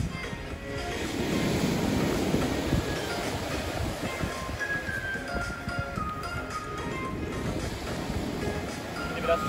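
Sea waves wash at a shore near Antalya on a cold day, a steady broadband rush with rolling swells, fairly faint and continuous, with no clear talk over it.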